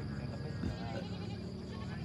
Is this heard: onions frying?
no